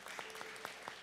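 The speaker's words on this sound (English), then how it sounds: "The best clap offering belongs to the Lord." Worshippers at a church grand opening clap together as an offering, making a quiet, fairly even patter of hand claps with several crisper strikes, over a faint background hum.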